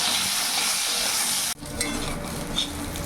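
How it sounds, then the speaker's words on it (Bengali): Brinjal with salt and turmeric frying in a little oil, with a loud, dense sizzle that drops off abruptly halfway and then continues as softer frying with light stirring, no speech. "বেগুনটাকেও ভেজে নেব"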